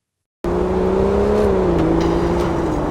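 Video game car engine kicks in abruptly after a brief silence, a loud steady motor drone with slight pitch shifts as it revs, continuous and close with no talking.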